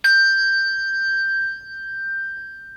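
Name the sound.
Schulmerich handbell ringing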